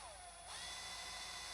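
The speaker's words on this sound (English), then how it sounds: "But I'm just going to drill right in the center of that mark." A power drill whines steadily while boring through the outer layer of a 2023.5+ Harley-Davidson saddlebag, its pitch rising as it bites in, close and continuous without talk.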